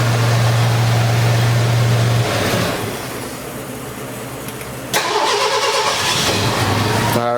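A 1984 Mercury Capri engine runs loud and close, dips to a low lull, then cranks and catches again with a burst, settling back into a strong, rough idle.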